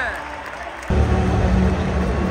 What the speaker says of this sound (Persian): اکرم عفیف چه تشویقی میشه